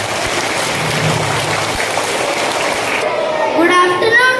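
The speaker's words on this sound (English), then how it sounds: "Please welcome them with a big round of applause." Steady, dense applause from a school audience at a Teachers Day program, greeting students as they come up. The clapping stays loud and even throughout, with a voice rising faintly over it near the end.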